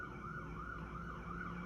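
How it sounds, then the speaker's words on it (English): An emergency vehicle siren wails through a rainy Sunday afternoon in New York, its rising and falling tone steady and fairly distant over low city traffic rumble, with no voices. "I'm in New York, so you're gonna hear sirens"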